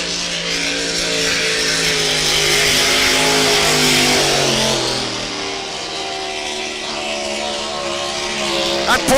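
Racing power boat with a 6-litre engine roaring past at a river race meet in Bundaberg, a loud sustained drone that swells and then fades as it passes, with a commentator's voice faintly under the engine.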